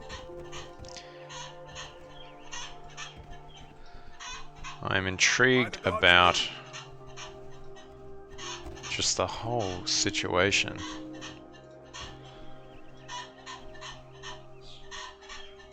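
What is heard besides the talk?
chickens clucking in the background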